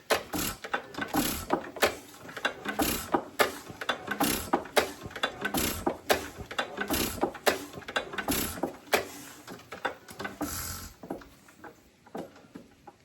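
A hit-and-miss stationary engine is turned over, giving close, repeated mechanical clanks and ratchet-like clicks in an uneven rhythm through the whole stretch, with no talking.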